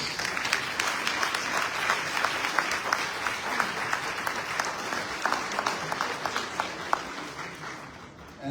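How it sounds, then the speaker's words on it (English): Sustained applause from a large standing crowd at a graduation commencement ceremony, dense steady clapping at an even level throughout, fading slightly only at the very end. "Please stand and let us give them a round of applause."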